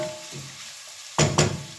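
Beetroot and carrot fry in a pan for borscht, a soft sizzle that swells into two short, louder bursts of hissing as the vegetables are stirred.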